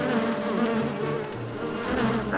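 A cartoon wasp buzzes steadily and loudly throughout, a continuous close insect drone with no talk over it.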